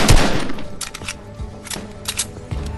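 Gunfire in a shooter video game: loud, close shots in quick irregular bursts, a dense volley at the start and scattered cracks after it, with no talk.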